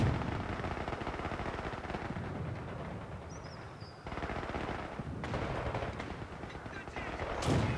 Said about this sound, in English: Requested barrage is on the way.